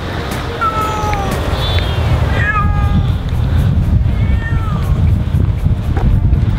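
A cat meows several times in drawn-out, rising cries at the edge of a road near Sakurajima volcano in Kagoshima, Japan, heard over steady low traffic and outdoor rumble.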